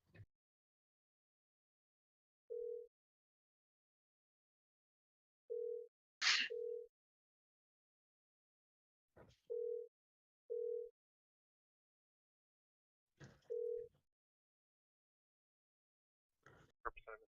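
Telephone tones while dialing and calling a state representative's office in Missouri: short, evenly spaced ringback tones repeat several times over near silence, broken by brief clicks and a sharp burst.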